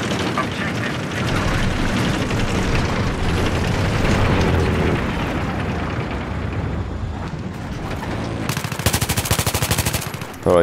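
Machine gun fire in the Battlefield 3 video game, Alborz Mountains map, rattles in long continuous bursts mixed with booms and explosions, loud throughout, with a player talking over the combat.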